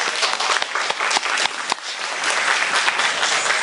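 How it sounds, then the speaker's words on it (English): Crowd at the Cleveland Asian Festival clapping for a festival co-founder being introduced, brisk sharp claps from a modest group, fairly close and steady throughout. "Give her a round of applause."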